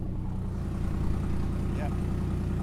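A Mercedes W210 E320 engine with a running problem idles steadily, a low, even rumble with a faint rhythmic unevenness, close by and continuous, with no talking over it.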